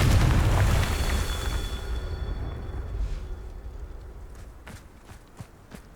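A Confringo fire spell explodes in the video game Hogwarts Legacy, a loud deep boom at the start that slowly rumbles away, followed by a few faint footstep-like taps.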